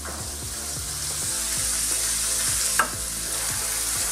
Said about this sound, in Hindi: इन सबको डाल के हम अच्छे से इसे भून लें